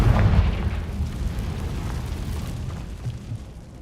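A Confringo blasting spell explodes in Hogwarts Legacy with a loud, deep boom that opens strongly and then rolls on as a rumbling blast that slowly fades.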